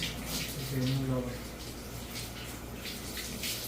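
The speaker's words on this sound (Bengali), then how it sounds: "এই যে দেখেন এখন পানি দিয়ে দিব" Water poured into a cooking pot while making Saudi kabsa gives a steady splashing hiss throughout, with a voice speaking briefly near the start.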